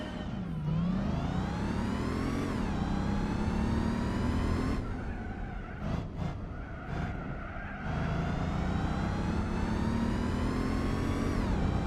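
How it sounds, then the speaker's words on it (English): Supercharged car engine in Gran Turismo 4, loud and close, with a high supercharger whine rising and falling through repeated upshifts, a brief lift-off and blips in the middle, then climbing again under acceleration. "Supercharged noises"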